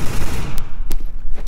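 Rapid burst gunfire in a Counter-Strike: Global Offensive competitive match, loud and close, with a few sharp individual shots standing out near the end.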